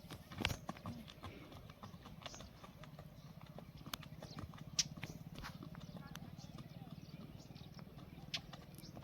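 Steady clip-clop of a mare's hooves walking at an even pace, with a voice talking over the footsteps.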